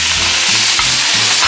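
Sausage sizzles loudly and close on a Blackstone griddle, a dense continuous frying hiss broken by a few spatula scrapes and shifts, with no talking.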